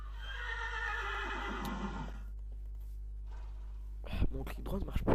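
Horse in a French-language video game, neighing in a long, bright whinny over a steady low hum, followed by a pause and then a burst of clattering hoof or saddle sounds.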